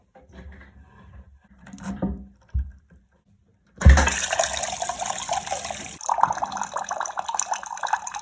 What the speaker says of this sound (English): Some of the water that was left in the system that's just draining off there.